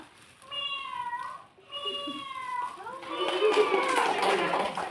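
A human voice imitates a cat meowing, with two drawn-out, wavering meows in quick succession, followed by a noisier stretch of mixed voices and lively background chatter.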